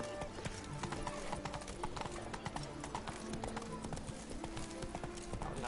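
A horse's hooves clip-clop at a steady walking pace through city streets in The Witcher 3, a close, rhythmic run of sharp hoof strikes over low game ambience.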